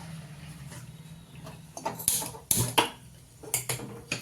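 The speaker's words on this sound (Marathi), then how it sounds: "हे बघा मी इकडं कढई ठेवली तापायला" A kadhai is set down on a kitchen stove to heat. After a quiet stretch, a few close, sharp metallic clanks and knocks come in short bursts.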